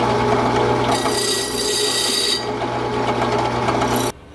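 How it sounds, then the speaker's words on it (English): Brass wire wheel on a power tool scrubbing rust off a vintage Coleman 502 stove part, a loud steady whirring hum with harsher abrasive scraping bursts, then the motor cuts off abruptly near the end. "I'm gonna try this brass wire wheel and just see what it does."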